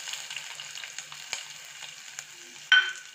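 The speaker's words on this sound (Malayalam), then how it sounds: "അതും കൂടി ചേർത്ത് കൊടുത്തിട്ട് നന്നായിട്ട് വഴറ്റി എടുക്കാം" Onion and garlic sizzle gently in a clay pot over low gas, a soft steady frying hiss with light stirring clicks and a brief sharper scrape near the end.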